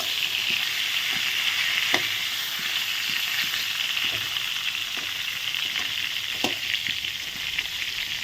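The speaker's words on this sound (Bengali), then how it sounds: "এক পাশ ভাজা হোক" Eggplant slices fry in hot oil in a pan, a steady close sizzle with scattered sharp pops and crackles spaced through it, no talking.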